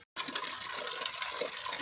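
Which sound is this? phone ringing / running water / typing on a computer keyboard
running water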